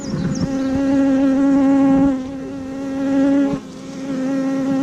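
Honeybees buzz around an open hive during an inspection, a close, continuous droning hum that swells and dips slightly as bees fly past the microphone.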